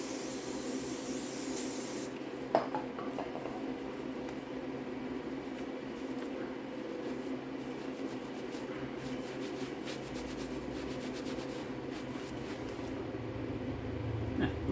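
Brake cleaner sprays from an aerosol can onto hands to remove spray glue, a steady close hiss running almost throughout with a sharper burst at the start and small rubbing sounds.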